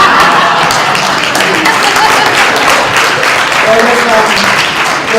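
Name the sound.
audience cheering and applauding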